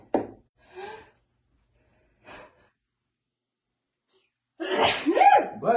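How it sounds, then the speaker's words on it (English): A person sneezes loudly at close range, with a brief sharp burst following a few quieter breaths and short vocal sounds. "I think I'm about to sneeze."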